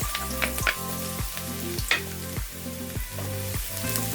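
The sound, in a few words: garlic frying in hot oil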